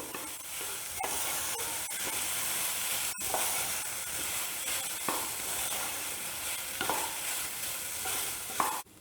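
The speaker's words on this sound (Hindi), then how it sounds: "अब इसमें फाइन चॉप की हुई जिंजर ऐड करेंगे और 1 से 2 मिनट और पकाएंगे" Finely chopped ginger fries in a pan for pineapple chutney, a steady close hiss and sizzle with scattered sharp clicks and scrapes of stirring and no talking.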